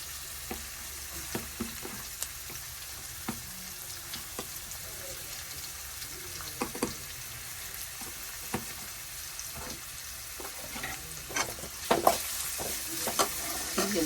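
Chopped jackfruit-seed mixture sautéed with turmeric powder in a pan: a low continuous sizzle with scattered scraping and tapping of a spoon, growing busier and louder toward the end, with faint watery sounds in the background.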